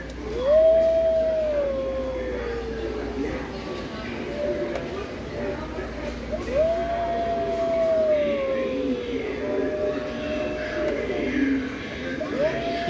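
Animatronic Halloween dog decoration in a Home Depot store, giving repeated electronic howls, long wavering wails that slide downward, over a steady store hum and talk nearby.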